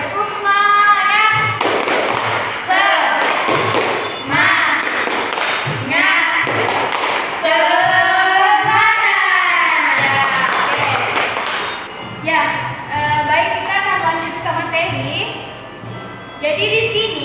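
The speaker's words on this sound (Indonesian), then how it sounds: "Kita tepuk semangat." A classroom of children performs a rhythmic spirit clap in a teaching session, with sharp claps and thumps landing in patterned bursts alongside loud chanting and young voices throughout.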